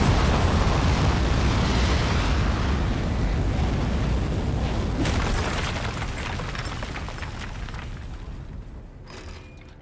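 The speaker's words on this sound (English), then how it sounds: "3, 2, 1. We have liftoff." A rocket lifting off in the video game Aperture Desk Job gives a loud, sustained roaring rumble that slowly fades over about ten seconds, with no speech.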